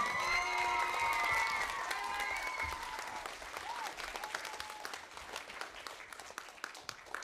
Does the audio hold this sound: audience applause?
yes